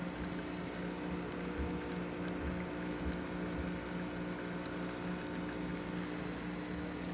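A Vibiemme espresso machine's pump drones steadily and evenly while pulling a shot, a continuous mechanical hum with no talking.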